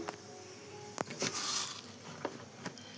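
Soft, steady sizzling of cumin and mustard seeds frying in hot oil, with a few sharp clicks and stirring sounds over a quiet hiss.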